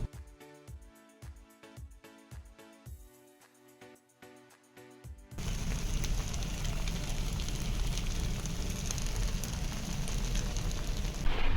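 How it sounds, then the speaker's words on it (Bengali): Curd (doi) toast batter hits hot oil midway and sets off a steady, dense sizzle that continues to the end, after a stretch of rhythmic tapping. "চলো এবার এক এক করে ঝপঝপ করে ভেজে নিই"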